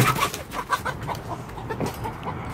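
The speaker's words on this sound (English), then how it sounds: "We have our new chickens in our coop." Chickens cluck softly and continuously in a coop on a cold day, several birds murmuring and clucking up close in an irregular flow with no talking.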